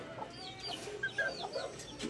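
Several chickens clucking softly during feeding, short scattered calls at close range with no talking.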